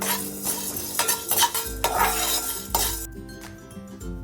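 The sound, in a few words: roasting chana dal, coriander seeds and cumin in pan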